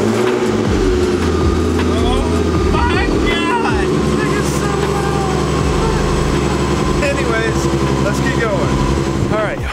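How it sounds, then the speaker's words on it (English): A car engine idles steadily after a cold start inside a home garage, a constant low rumble with a faint whine throughout, while a person talks over it. "this is the first cold start I get to hear in the garage"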